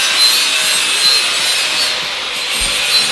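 A pole being sawn through in a workshop during a turbo car build, with a steady, continuous rasping of close, loud back-and-forth strokes and no talking.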